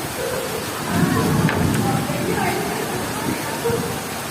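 Heavy rain and gusting wind at a school in a storm, a dense steady roar of downpour that swells in the middle, with a voice talking faintly underneath.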